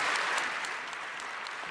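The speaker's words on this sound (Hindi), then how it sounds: "बाद में खड़े होकर ये तालियां" Members of the Canadian Parliament give Zelenskyy a standing ovation, a dense, sustained roar of clapping from a large crowd in the chamber, loud and steady with no voices over it.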